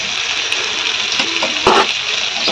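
Nigella seeds, onion, garlic and a dry chili tempering in hot oil, making a steady close hiss with a brief louder crackle partway through; no one talks.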